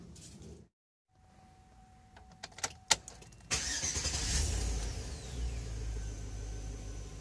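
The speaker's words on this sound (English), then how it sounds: "let me start that car up" A Chevrolet Tahoe with bad spark plugs starts up: a short burst of cranking clicks, then the engine catches with a loud rush and settles into a steady, close idle rumble, no talking.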